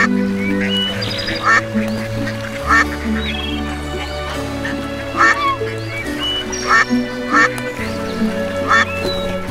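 Ducks quack in short, loud bursts that repeat every second or so, set against a steady background of orchestral music.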